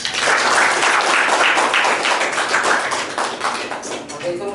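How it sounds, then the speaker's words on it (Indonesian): Classroom audience applauding after a university teaching session, a dense, steady burst of many hands clapping at close range, fading slightly toward the end. "Berikan aplaus."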